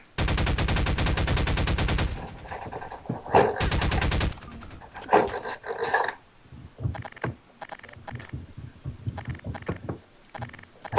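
Garry's Mod video game gunfire: two loud bursts of rapid automatic fire, each about two seconds long, then scattered shorter shots and clatter at lower volume.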